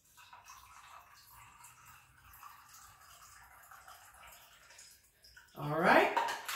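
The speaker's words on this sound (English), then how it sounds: "And then I'm gonna strain it in." A Rum Runner cocktail is strained from a shaker into a clear glass over ice: a soft trickle of liquid, then a louder splashing pour near the end.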